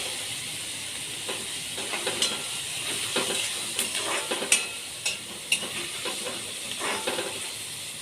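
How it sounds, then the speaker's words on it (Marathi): Onions sizzle and fry in a pan for a curry, a steady soft hiss with scattered crackles and pops, fairly quiet and without talk. "चला कांदा चांगले ब्राऊन परतले गेले, ब्राऊन कलर आला आहे."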